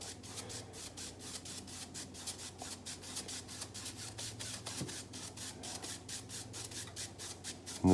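A dry, soft-bristled brush gently passing over an acrylic painting of sea oats at sunset, giving a soft, steady rhythmic scratchy rubbing with quick repeated strokes, close and alone.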